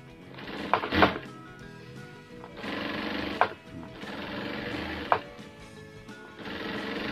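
Sewing machine running a hemming foot along folded fabric, stitching in several bursts of steady mechanical whirring separated by pauses and light handling clicks, fairly close and with no talk.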